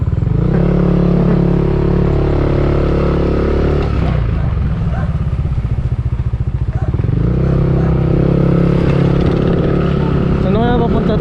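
A motorcycle rides along rural back roads in Montalban, Rizal, its engine droning loudly and continuously close by, with the pitch dipping and rising as it changes speed, while people talk over it.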